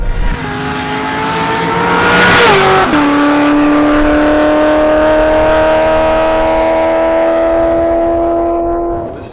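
A supercharged Corvette Grand Sport accelerates hard from a standstill to 140 mph. The loud engine note climbs steadily, drops briefly at a gear change, then keeps rising and roaring close up, with no talk over it.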